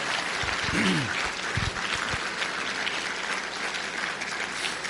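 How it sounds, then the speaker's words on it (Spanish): A congregation claps loudly and steadily through a church service, a dense continuous wash of applause with a few brief voices and shouts surfacing early on. "Puedes dar un fuerte aplauso a nuestro Dios en esta tarde"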